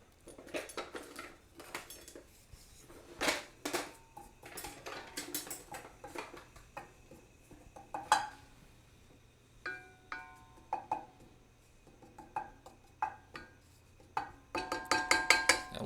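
Flour cooking in a stainless steel pan, heard as scattered clinks and scrapes of a utensil against the metal, mostly quiet, with a denser run of light clattering toward the end.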